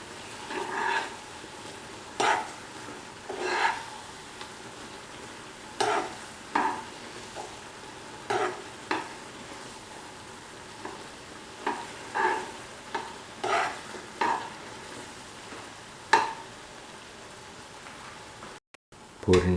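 Egg being stirred into Maggi masala noodles with vegetables in a hot pan, giving a soft continuous sizzle broken by repeated scraping strokes of the spoon at an irregular rhythm.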